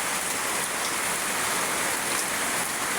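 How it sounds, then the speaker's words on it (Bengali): Heavy rain pours steadily at a home gate where ducks shelter, a dense, even hiss that stays loud and unbroken throughout with no voices. "প্রচুর বৃষ্টি।"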